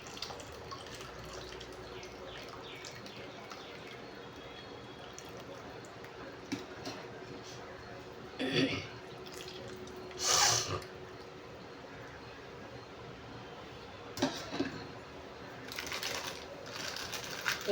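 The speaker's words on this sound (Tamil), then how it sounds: "நம்ம போயிட்டு மீனை வந்து கழுவி எடுத்துகிட்டு வந்துடலாம்." Fish being washed by hand under a running tap in a home kitchen: a steady stream of water with a few short, louder splashes and sloshes, heard alone without talk.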